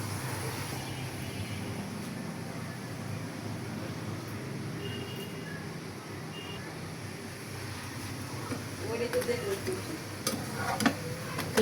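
A paratha fries in oil in a pan with a soft, continuous sizzle, punctuated by occasional scraping and clinks of utensil against pan near the end, with faint talk in the background.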